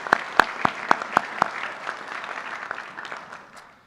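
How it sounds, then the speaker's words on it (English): Sparse applause from an audience at a high school honor society induction ceremony, opening with a few sharp distinct claps that soften into a thinner, fading patter within a few seconds. "we'll give him a round of applause anyway"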